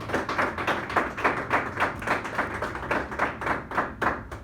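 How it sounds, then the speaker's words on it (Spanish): A church congregation applauds in steady, rhythmic unison, claps repeating about three times per second at moderate volume, with no talking. "Demos un aplauso al Señor."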